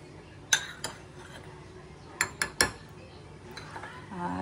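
A spoon clinks and taps against a dish while curd is spooned onto biscuits at home, giving a few sharp metallic knocks spaced apart over a quiet background.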